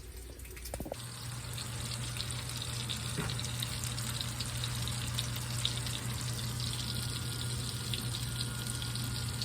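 Dishes being washed in a kitchen sink under a steady running tap, with continuous splashing water and faint clinks, after frying bacon.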